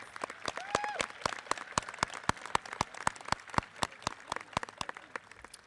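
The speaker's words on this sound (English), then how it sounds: "Let's give these students a round of applause." Graduation audience at Boonsboro clapping for students, individual hand claps sharply spaced in a slow, regular rhythm, fairly faint and distant in a large hall, with a brief voice near the start.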